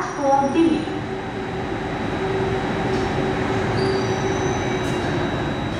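SMRT C830 metro train running between Bayfront and Promenade stations, heard from inside as a steady, loud rumble of wheels and motors with a faint high whine, continuous throughout.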